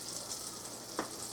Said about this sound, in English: Sizzling. Yep, it's supposed to sizzle.